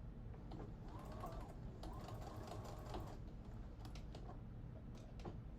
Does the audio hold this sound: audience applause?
no